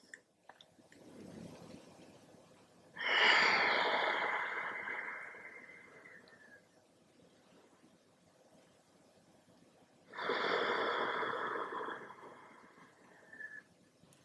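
Two slow, deep breaths during a yoga stretch before running, each a long, close airy exhale lasting a few seconds with quiet gaps between.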